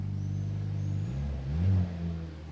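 A 2023 Mercedes C43 AMG (W206) four-cylinder, heard from outside, gives a low, steady exhaust drone whose pitch briefly rises and swells as the engine revs, then settles again.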